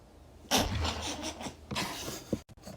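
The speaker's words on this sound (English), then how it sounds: "the really good popping noises you hear out of slimes" Slime being squeezed and stretched by hand gives off a few wet, squelchy bursts and soft pops at close range, two main bursts followed by small sharp pops near the end.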